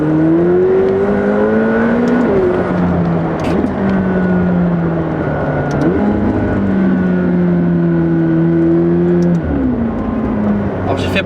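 An 820 hp, 860 Nm high-performance car engine revs loudly and continuously close by, with the pitch climbing and dropping through several rises and falls.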